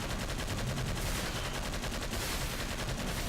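Rapid-firing cannon in the Toy Soldiers video game blasts out a continuous, dense stream of loud shots with no pauses, steady and unbroken throughout.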